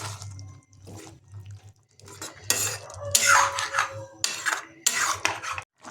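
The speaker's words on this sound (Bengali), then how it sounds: "পরিমাণ মতো জলটা যোগ করে দিয়েছি" Clanking of a metal pan and utensil with splashing as water is poured into chicken and chickpea gravy, with irregular bursts of clatter growing louder toward the end.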